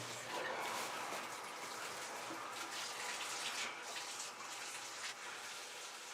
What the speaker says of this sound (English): Can you turn on the water?